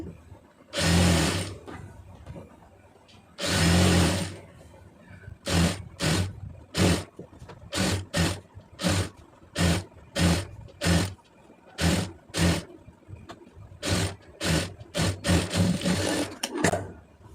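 A sewing machine stitches a blouse seam in repeated bursts, two longer runs followed by many short, evenly spaced whirring spurts separated by brief pauses, close-up with no talking.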